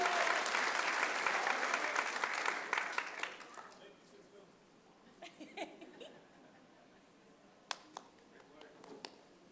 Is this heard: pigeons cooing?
no